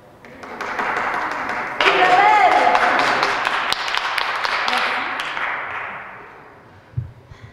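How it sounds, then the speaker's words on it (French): An audience at a live magic show applauds a volunteer, a dense swell of clapping that rises, holds, then fades out, with voices and a whistle-like tone mixed in near the start and a thump at the end. "Isabelle, on l'applaudit bien fort!"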